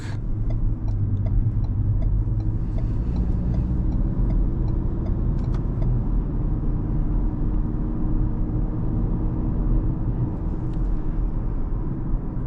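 A 2024 Ford Ranger XL STX pickup accelerates onto a highway, its engine and road noise forming a steady low rumble with wind hiss inside the cabin, faint clicks near the start, no talking.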